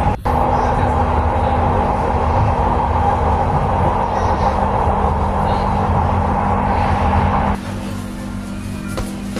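Steady low rumble and hum of a moving LRT light-rail train in Indonesia, heard from inside the carriage, loud and continuous before dropping to a quieter interior drone near the end.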